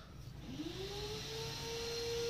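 A vacuum nozzle held to a freshly drilled hole in a wall sucks up dust, giving a steady, rising whir with a faint whine that climbs and then holds.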